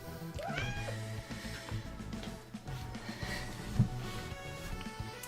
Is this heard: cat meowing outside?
yes